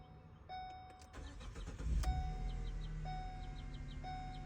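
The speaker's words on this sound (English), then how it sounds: "We're gonna go ahead and try to fire it up, see what it sounds like." A 2015 Ford Transit with a 3.7L engine, flagged for a cylinder 3 misfire, cranks briefly and starts, then settles into a steady idle while a repeating warning chime sounds in the cab.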